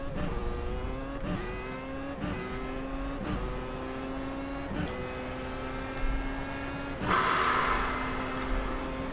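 An F1 race car engine in iRacing at Imola screams at high revs, with a sharp gear-shift break about once a second as the pitch climbs again, then a louder burst near the end; steady and close throughout.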